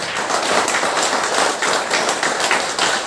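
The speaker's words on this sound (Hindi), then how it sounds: "एक बार तालियां तो बनती है" An audience applauding at a company speech event marking new Dubai and Singapore offices, a dense, steady wash of clapping with no break.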